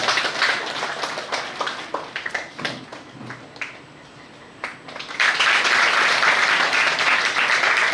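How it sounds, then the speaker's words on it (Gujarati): An audience at a school science exhibition event claps to honour a guest, scattered claps at first, thinning briefly, then swelling into a dense, steady round of applause. "તાળીઓના ગડગડાટથી આપણા સાહેબને આપણે વધાવીએ."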